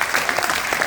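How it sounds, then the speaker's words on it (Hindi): Brief burst of audience clapping at a Hindi poetry recital (kavi sammelan), loud and close, a dense patter of many hands with no voices. "पहले तो एक बार इस पूरी टीम के लिए तालियां बजाइए"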